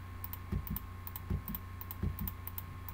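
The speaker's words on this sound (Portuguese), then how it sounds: "desculpa se estiver fazendo os barulhos do meu teclado aqui" Quiet computer keyboard typing, clustered keystrokes in a few short bursts roughly every half second, close to the microphone over a steady low hum.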